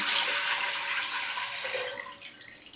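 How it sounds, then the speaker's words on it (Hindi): Strained pomegranate water for homemade sharbat is poured back into a cooking pot, a soft continuous splashing pour that thins out toward the end, fairly quiet with no voices. "अब हम इसको वापस इस बर्तन में डाल लेंगे।"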